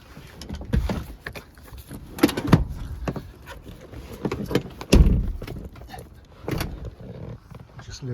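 An electric tailgate on an Audi Q7 3.0 TDI V6 S line Plus quattro operating, with a series of mechanical clunks, motor whirs and a latch thud sounding close by, no talking.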